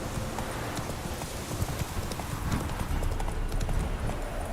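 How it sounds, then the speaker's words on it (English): Roach, the horse in Witcher 3: Wild Hunt, gallops in a quick, rhythmic run of hoofbeats, close and steady over a low game ambience, with a brief voice in the background. "Run, Roach."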